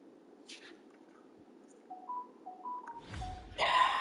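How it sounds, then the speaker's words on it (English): A phone notification sound in the UFC 2 game, a short sequence of soft electronic beeps heard faintly over a quiet background, followed by a louder burst of noise at the end. "I got a notification on my phone."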